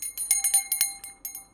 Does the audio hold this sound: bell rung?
yes